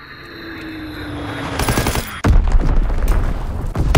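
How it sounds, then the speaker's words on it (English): Video game gunfire from an enemy aircraft strafing run in Call of Duty WWII: a rising aircraft roar builds, then loud rapid machine-gun bursts and booms hit close by and continue to the end, with no talk. "Enemy strafing run inbound."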